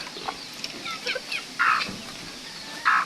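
Bantam chickens of the bantex type cluck now and then while feeding at close range, with several short calls and a couple of louder, brighter bursts over a faint background.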